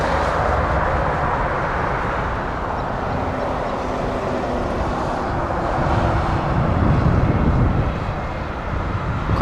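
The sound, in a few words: Air Canada Airbus A220 aircraft in retro livery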